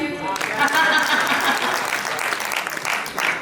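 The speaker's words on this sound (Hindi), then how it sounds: "गजल खत्म, तालियां बजाइए।" An audience at a kavi sammelan poetry gathering in Paota breaks into warm applause after a ghazal recitation. The clapping swells quickly after a brief voice at the start, then continues steady and full before tapering slightly.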